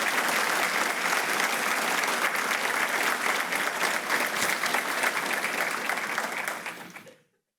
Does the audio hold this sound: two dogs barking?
no